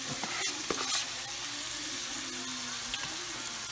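Pastured steak frying in a skillet gives a dense, even sizzle throughout, with a few quick utensil scrapes and taps early on and no voices.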